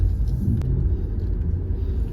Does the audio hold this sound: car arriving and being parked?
yes